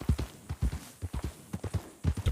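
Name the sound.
horse galloping hooves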